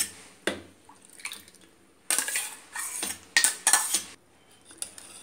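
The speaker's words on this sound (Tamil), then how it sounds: "அதை இந்த பாலில் மிக்ஸ் பண்ணிடணும்" Coarsely ground palm fruit (nungu) is stirred into milk with a spoon. Several sharp metallic clinks and scrapes against the vessel come in uneven bursts, close and fairly quiet.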